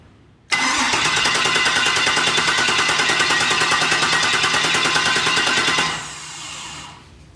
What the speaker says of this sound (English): I'm gonna run the starter, see if we can get some oil pressure indication